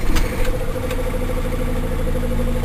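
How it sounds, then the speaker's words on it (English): A U Mole MTS suction excavator's engine idles steadily as a loud, even mid-pitched drone after a short rougher burst at the start, with no voices. "start your engine"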